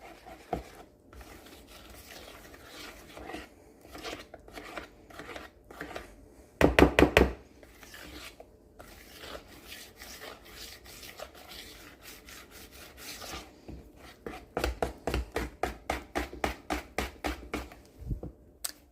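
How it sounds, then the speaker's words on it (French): A spoon scrapes and stirs thick batter in a bowl to work in butter, with repeated rubbing strokes, a loud clatter partway and a quicker rhythmic run of stirs near the end. "Je remue de nouveau bien comme il faut. Pour bien incorporer tout le beurre."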